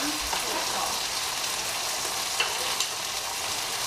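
Chicken frying in a hot pan gives a steady, dense sizzle and crackle that runs without a break, close and fairly loud, with a couple of sharper pops near the end.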